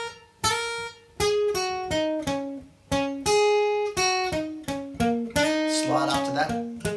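A funky electric guitar riff, with repeated short notes that slide up into the first pitch, picked in a bouncy, syncopated rhythm and played alone and close.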